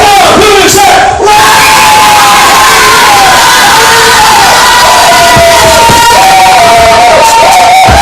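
A church congregation shouts a victory cry together, a loud, sustained roar of many voices with yells and whoops that holds steady for several seconds and fills the room.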